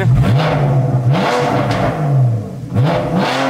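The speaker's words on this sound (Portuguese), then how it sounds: "Essa Boxster S tá com estágiozinho e escape esportivo também." A Porsche Boxster S with a stage tune and sport exhaust revs loudly up close in repeated rising and falling blips, the engine note climbing and dropping several times while someone briefly speaks.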